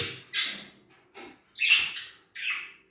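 Pet birds at their feeders eating homemade bird food, giving four separate sharp squawks and chirps, close and fairly loud, with short silent gaps between calls.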